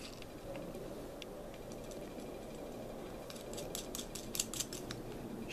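A nut is tightened over a spring washer while an unregulated adjustable power supply is assembled. Faint, close metallic clicks and scrapes come quietly at first, then grow denser toward the end over a soft background hiss.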